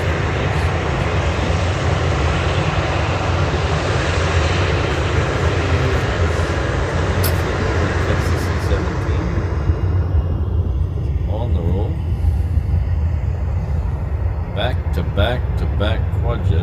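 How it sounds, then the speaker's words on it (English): Several four-engine quad jets pass back to back at a Hawaii airport, a loud, steady, broadband jet roar that holds throughout and then thins a little, with people talking over it. "Back-to-back quad jets."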